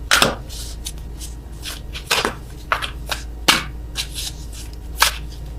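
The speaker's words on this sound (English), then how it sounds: "I am awful at attempting to shuffle these." Tarot cards are shuffled by hand in a few separate bursts, each a quick crisp riffle or flutter of card stock, close and clear over a low steady hum.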